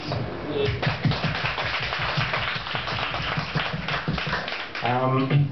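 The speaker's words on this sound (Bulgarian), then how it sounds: "следващите аплодисменти са за вас" An audience claps steadily and densely for several seconds while a voice talks over the applause, and a louder voice comes in near the end.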